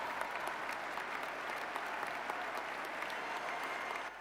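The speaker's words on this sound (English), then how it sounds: "And the crowd applauds." Sustained applause from a large crowd filling an indoor arena during a presidential inauguration event, steady and dense throughout with a slight drop at the very end.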